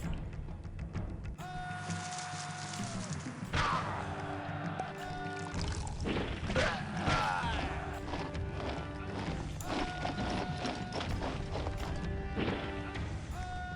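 Horses clip-clop across the ground in the city-building game Caesar 3, a steady trot of hooves mixed with bright in-game tones and music, with no talking.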